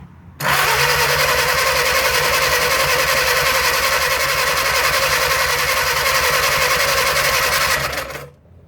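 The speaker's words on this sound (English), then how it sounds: "Ignition on. Ether ready. Hitting the starter." The starter cranks a 1937 Willys flathead engine, left sitting in the woods for over 25 years and primed with ether, which fails to fire: a loud, even, rhythmic churning for about eight seconds that then stops.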